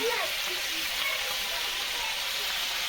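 Spices are fried and stirred in a pan. A steady, close sizzling hiss holds even throughout.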